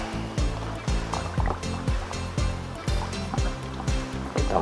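Water pouring into the tub of an automatic washing machine, a steady splashing rush with repeated low sloshing surges, close and continuous, with no talking.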